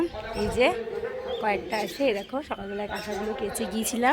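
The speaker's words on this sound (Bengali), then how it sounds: "ও বাবা কোথায় এবার পাখি কেমন ডাকছে দেখো" Birds call around a mango tree beside a rooftop, their chirps scattered through the clip beneath someone talking close by.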